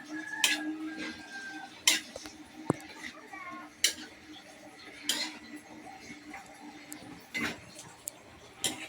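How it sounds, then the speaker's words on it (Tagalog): Pechay baguio being stirred in a cooking pan, with a utensil clinking and scraping against the pan in sharp, irregular knocks over a soft sizzle, fairly close, with occasional talk nearby. "Halumisa na rin, baka matutong."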